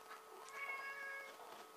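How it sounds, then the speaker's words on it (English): A pet cat meows indoors, a drawn-out, fairly clear call that rises and falls over a second or so and is heard alone without talk. "This is my cat."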